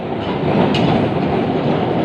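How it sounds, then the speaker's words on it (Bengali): A Kolkata tram rolls along a city street, a loud, steady rumble with clattering wheels heard from on board, continuous throughout with no voices. "কলকাতার বুক দিয়ে ট্রাম যাচ্ছে"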